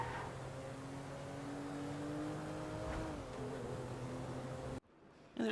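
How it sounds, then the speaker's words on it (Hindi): Car driving fast in GTA V, an engine note rising and shifting in pitch as it speeds along, moderately loud, then cutting off abruptly near the end, followed by a brief burst of noise. "जल्दी से अपनी गाड़ी को भगा के पहुंचते हैं लेस्टर के पास"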